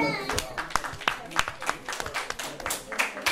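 An audience at the launch of a women's leadership movement in Mali claps in a loose burst of hand claps, lively and close, with voices in the room talking over the applause.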